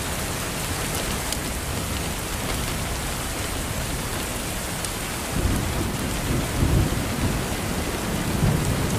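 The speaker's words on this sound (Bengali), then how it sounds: "গ্রামের বৃষ্টি যে না দেখেছে, যে না ফিল করেছে, যে না ভিজেছে।" Steady, dense rain pours over a West Bengal village, a broad hiss of drops hitting the ground and surfaces that swells heavier and louder partway through, with a low rumble beneath and no voices.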